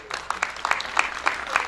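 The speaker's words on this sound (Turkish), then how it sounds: "sizlerle alkışlıyorum lütfen" An audience at the opening of a business association branch in Edirne claps together, a loose patter of handclaps that swells and stays moderately loud for the whole stretch.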